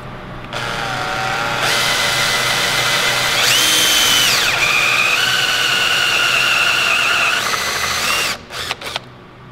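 A power drill bores into hard cherry wood, its motor whine rising and shifting pitch as it bites and spins for several seconds, loud and close, then stopping with a few short clicks at the end.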